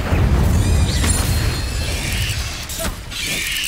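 Fiery Incendio spell blasts in Hogwarts Legacy on hard mode, a loud booming burst with crackling bursts of combat effects, continuous and dense throughout.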